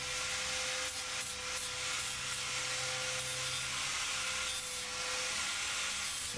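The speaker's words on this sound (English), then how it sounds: "Going to take any sharp edges off with the flat disc" Steady, even hissing abrasion of a flat sanding disc deburring sharp edges on metal, continuous and fairly close with a faint underlying tonal hum, no voices.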